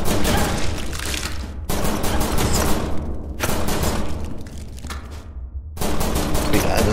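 Rapid bursts of Glock pistol fire from the video game Rodent Retribution, loud dense volleys separated by a few brief pauses across several seconds.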